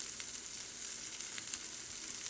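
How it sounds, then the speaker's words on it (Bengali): Vegetables frying in a little oil in a pan for a light curry, giving an even, steady crackling sizzle that stays close and constant throughout with no voices. "অনেকটা ভাজা হয়ে গেছে সবজি"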